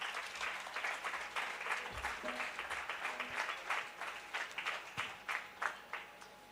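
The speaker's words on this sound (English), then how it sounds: "let's give them a big round of applause for their dedication and creativity" Fairly faint applause in a school opening ceremony hall, honouring the student committee, with clearly separable claps in an uneven rhythm and some low thuds.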